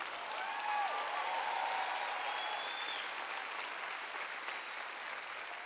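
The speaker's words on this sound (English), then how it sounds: "Come on, you can clap louder than that." Congregation at a Joyce Meyer sermon applauding in a dense, sustained wave, with a few cheers near the start before the clapping eases slightly toward the end.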